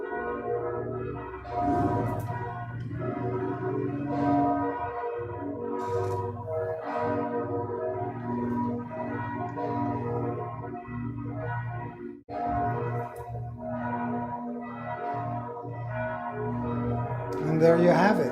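Church bells toll at length in a steady, overlapping peal of ringing tones, resonant and sustained, with a brief dip partway through and no talking.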